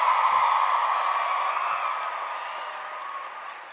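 Graduation-ceremony audience applauding Rosen College of Hospitality Management graduates at a university commencement, a steady, dense wash of clapping from a large crowd that fades gradually.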